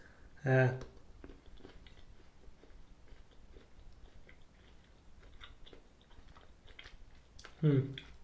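Vivani strawberry waffle crunch chocolate is chewed close up, with soft crunching and mouth clicks between two short spoken interjections at the start and end.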